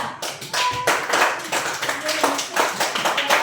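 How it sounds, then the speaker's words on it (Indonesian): A group of people clapping together in a steady burst of applause, loud and close, lasting several seconds. "kita tepuk tangan buat kelompok 3."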